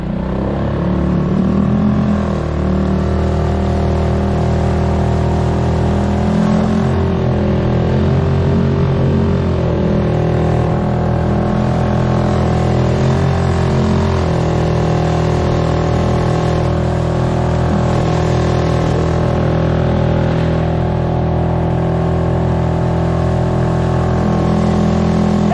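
A Suzuki 6 horsepower outboard motor pushes a kayak through the water, its engine holding a loud, continuous drone with slight shifts in pitch and no talking.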